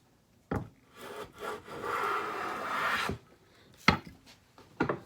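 Stanley No. 7 hand plane jointing board edges, with a sharp scrape at the start of the stroke, a long steady rasping pass of about 2.5 seconds, then short knocks and taps of wood afterward; close and alone, with no talk.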